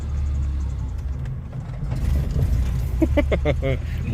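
Low engine rumble of a manual-transmission car as the clutch is eased out and it begins rolling uphill, steady and close, with a brief tonal whine near the end.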